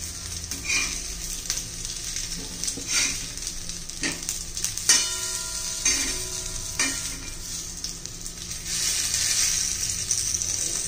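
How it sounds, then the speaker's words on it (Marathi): Vadi made of spinach, colocasia leaf and coriander with bajra flour and cornflour shallow-frying in a pan, with a constant close sizzle, scrapes and light clinks as pieces are turned, the frying swelling louder toward the end. "एक बाजू झाली असेल आपली, चारी बाजूने आपल्याला भाजून घ्यायच्या"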